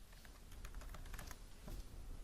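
Typing on a computer keyboard while drafting in AutoCAD: a quick run of light, irregular key clicks at moderate level over a faint room hum, with no voice.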